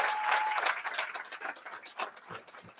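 An audience applauds at a HOPE for Prisoners graduation ceremony in a hall, a dense, steady wash of many hands clapping that holds throughout and thins slightly toward the end, with no voices over it.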